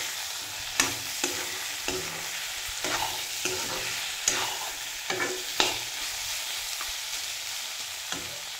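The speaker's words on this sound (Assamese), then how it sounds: "এতিয়া পেষ্টটো দি দিম দি অকণমান লৰাই দিছোঁ" Ginger, garlic and chili paste sizzles in a hot pan of oil while a spoon stirs it, with sharp scraping clicks at irregular intervals over a steady frying hiss.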